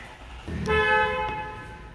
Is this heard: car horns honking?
yes